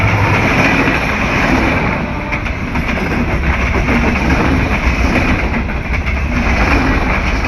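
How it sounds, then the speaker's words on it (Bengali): Chitra Express intercity train hauled by a 66-series EMD broad-gauge locomotive leaving Hi-Tech City railway station in Gazipur, a loud, close, continuous rumble of wheels and carriages with rhythmic clatter throughout. "ঝড়গতিতে হাইটেক সিটি রেলওয়ে স্টেশন ছেড়ে যাবে খুলনা থেকে ছেড়ে আসা যমুনা সেতু পাড়ি দিয়ে ঢাকা অভিমুখী একমাত্র আন্তনগর ট্রেন চিত্রা এক্সপ্রেস।"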